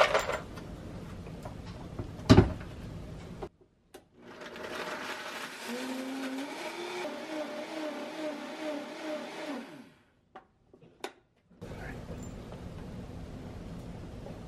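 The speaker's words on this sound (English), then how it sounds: "If you've ever powdered anything in your high-speed blender" A high-speed blender grinding dried tomatoes into powder runs for about six seconds with a steady whirring drone and rattling pieces, between short bursts of handling clatter and quiet pauses.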